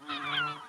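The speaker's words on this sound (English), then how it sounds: "But the seagulls are pretty loud." Loud, overlapping seagull calls, harsh and honking, fill the short moment with a steady raucous chorus nearby.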